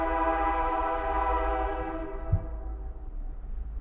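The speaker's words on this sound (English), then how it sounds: "See, we can't control when trains go by either, can we?" A train horn sounds in a long, steady harmonic blast over the deep rumble of a passing train, the horn cutting off partway while the rolling rumble continues alone.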